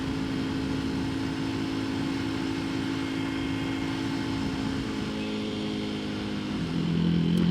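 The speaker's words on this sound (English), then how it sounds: "I'm riding the Halcyon right now" A Janus Halcyon 250 motorcycle being ridden, its single-cylinder engine holding a steady, even drone throughout with wind noise, rising slightly near the end as the revs pick up.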